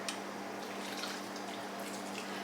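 Water poured into a pot of monggo beans, a steady close splashing trickle that runs evenly throughout with no voices.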